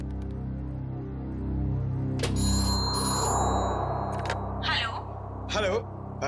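In a TV crime drama scene, a telephone ringtone trills as an outgoing call connects, ringing through several bursts with voices talking over and between the rings.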